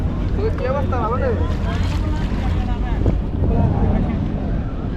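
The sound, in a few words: boats passing on the water near Villimalé, Maldives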